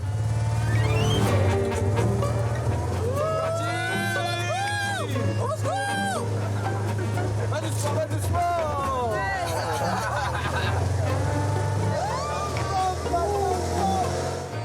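An unsilenced beach buggy engine revs and drives on a warm-up lap, holding a steady loud drone with surging revs under excited talking, laughter and crowd chatter.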